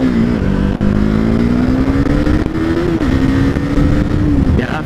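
KTM 390 Duke motorcycle pulling hard in third gear, its engine note climbing steadily under load, loud and close, without voices.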